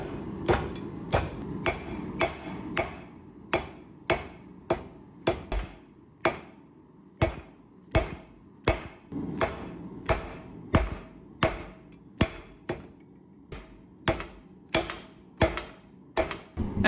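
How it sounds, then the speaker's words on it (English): A hammer striking a heated steel horseshoe on an anvil to draw it out, with about twenty sharp ringing blows at a steady forging rhythm, close and loud. "The next step is to try and draw out the horseshoe so you can eventually turn it over on itself to form the hook."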